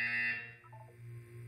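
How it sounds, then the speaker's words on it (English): A buzzer sounds in the game Portal 2, a harsh electronic tone that ends after about half a second and leaves a lower hum behind, fairly quiet, with no talk. "You will hear a buzzer."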